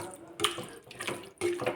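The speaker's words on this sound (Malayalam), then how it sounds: "മിക്സിയുടെ ജാറ് കഴുകിയിട്ട് 1/2 കപ്പ് വെള്ളം ഒഴിച്ചു കൊടുത്തു" Water splashes from a rinsed mixer jar into a pressure cooker holding Kerala-style mutton curry, pouring in short bursts with a bright, splashy texture, close and unaccompanied by talk.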